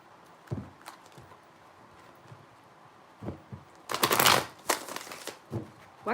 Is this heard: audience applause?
no